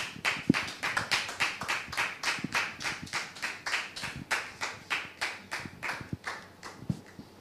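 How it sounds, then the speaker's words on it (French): Studio audience applauding on a television talk show, a steady ragged burst of many hands clapping with rhythmic swells, fairly close and loud, with no talk over it. "Public, merci de le recevoir sous vos applaudissements,"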